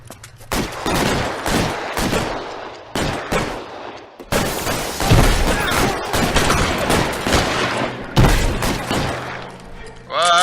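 Rapid bursts of gunfire in the crime video game LA Noire, loud and dense with short gaps between volleys, over game sounds with a voice briefly heard.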